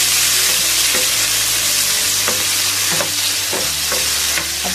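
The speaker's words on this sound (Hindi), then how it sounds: "टमाटर को पकने में 1 से 2 मिनट का टाइम लगेगा।" Chopped tomatoes fry in hot oil in a pan for an eggplant curry, a loud continuous sizzle broken by repeated scraping stirs of a spoon, with no voices.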